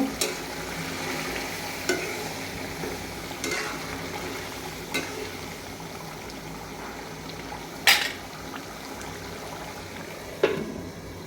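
A spoon scrapes and stirs egg curry with peanut paste in a pot at a slow pace, with a few sharper clinks over a steady low simmering hiss.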